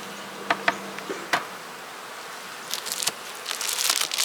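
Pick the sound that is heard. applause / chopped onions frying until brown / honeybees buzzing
honeybees buzzing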